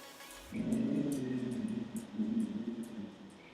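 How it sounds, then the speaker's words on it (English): A low, rumbling dog growl close by, sustained for a few seconds with slight pulses, over faint background noise. "Y'all can hear my dog growling in the voiceover."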